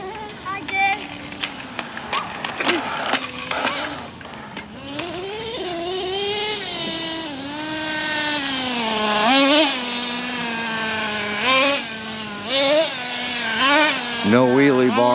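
A T-Maxx RC truck's small nitro engine revving on and off the throttle, its buzzy whine climbing and falling repeatedly in pitch, loud and close.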